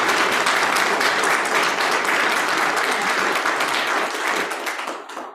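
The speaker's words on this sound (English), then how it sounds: "So can we get a round of applause for that?" Dense audience applause at a Hall of Fame induction ceremony, steady and loud for about four seconds before tapering off into silence, with no talking over it.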